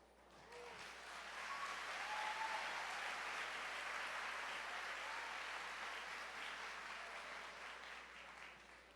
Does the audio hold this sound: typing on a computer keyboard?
no